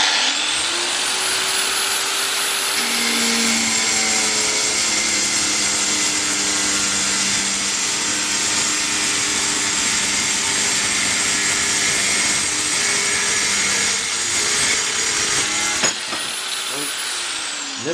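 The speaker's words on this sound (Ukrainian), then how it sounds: "А тепер давайте спробуємо зробити відріз." A Chinese cutting disc on an angle grinder cuts through glass: a loud, close, high whine that holds steady with shifting grinding tones as it bites, then spins down near the end.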